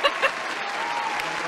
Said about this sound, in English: can like, we get a hand clap for you